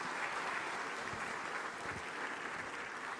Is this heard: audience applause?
yes